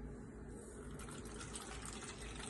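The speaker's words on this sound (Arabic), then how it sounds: "غادي ندير الماء" Water being poured into a mixing bowl while preparing Moroccan msemen-style dough, a steady close splashing trickle of liquid running continuously without pause.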